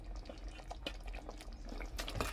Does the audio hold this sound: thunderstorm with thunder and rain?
no